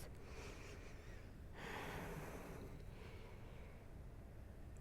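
Slow, steady ujjayi breathing during a yoga class comes through as a soft, airy rushing that swells and fades on a long breath, faint and close.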